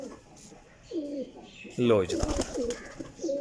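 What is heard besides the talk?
pigeons cooing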